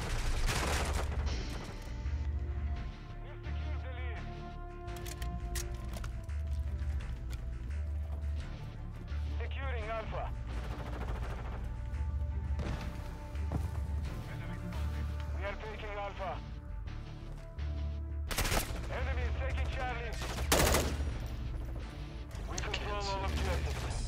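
Rapid gunfire and explosions in a military video game shooter, bursts and blasts running throughout under steady game noise and near, loud voice chatter.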